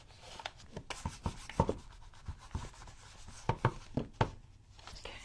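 A popsicle stick rubs a rub-on transfer in soft, close scratchy strokes, repeated in an uneven rhythm with small pauses between them.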